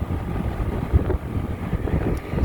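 A Ruud package air-conditioning unit's compressor runs with a steady low rumble and a breathy whoosh of moving air, fairly loud and close, with no voices.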